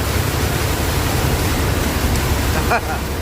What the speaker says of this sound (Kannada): ಕಾರವಾರ ಅದಕ್ಕಿಂತ ಅಪ್ಪನಂಗೆ ಹೊಡಿತೈತೆ ಮಳೆ